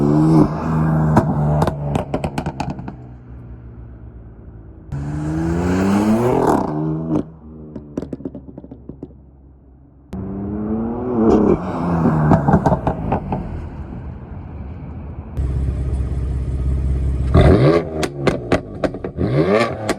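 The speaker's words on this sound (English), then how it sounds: "I'm gonna set the camera down and do a quick drive-by for you guys" BMW M4 with a stage 2 tune and catless downpipes driving past a set-down camera, several loud, raspy accelerations with gear shifts, crackles and pops between pulls, alternately close and receding.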